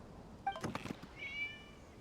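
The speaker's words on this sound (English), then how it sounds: "It was just a cat." A video game cat gives a short, close meow, followed by a brief thunk and a higher drawn-out mew, set against quiet background ambience.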